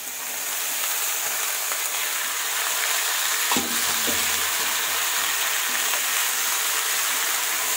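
Cauliflower and tomato cook in a pan with a steady, broad sizzle, and a brief clatter of stirring near the middle. No one speaks.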